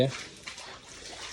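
Water runs and trickles softly for a moment, faint and close, while someone talks over it.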